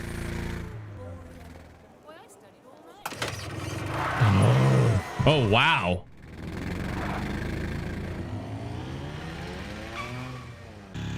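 A car engine in the Professor Layton and the Last Spectre's Call video game revs and sputters with warbling, rising and falling pitch. It runs loudly alongside skidding, with a brief exclamation spoken over it.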